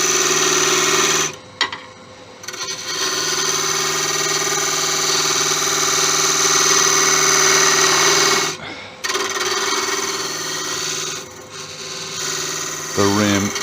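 Wood lathe cutting the rim of a Tigerwood box, a steady loud rasping whir of the tool against spinning wood, continuous with a few brief pauses and a rising sweep near the end.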